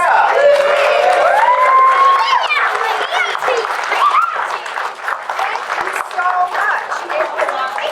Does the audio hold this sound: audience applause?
yes